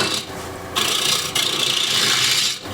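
A ball gouge scoops wood from a spinning tray on a lathe, a loud, close rasping hiss in three sustained passes separated by brief breaks, with no talking.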